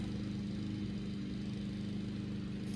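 A Westinghouse PowerAire 12PA fan clogged with sand, turning with a steady gritty low hum and rough whir that holds constant throughout, close and without talk.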